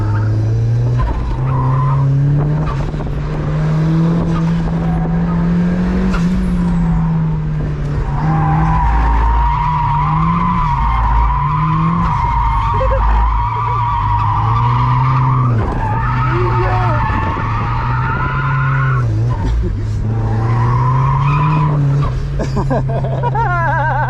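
Boosted Mazda Miata drifting, its engine droning loudly with pitch swings while tires squeal and skid in long sustained bursts, heard close up from inside the car.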